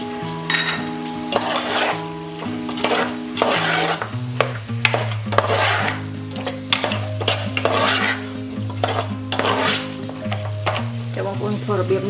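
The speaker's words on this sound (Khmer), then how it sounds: "ចាលកោវាឈ្ងុយហើយយើងចាក់ចំជំនីចូល" Pork ribs frying in a hot pan for a pork rib soup with coconut, sizzling throughout while a utensil stirs and scrapes in repeated strokes, with occasional pan clatter and a faint voice under the cooking.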